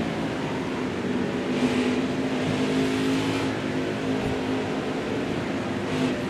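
Racing truck engines in NASCAR Heat 4 playoffs at Canadian Tire drone steadily and loudly throughout, a continuous high-speed roar with slight swells in pitch as the pack runs a lap, no talking over it.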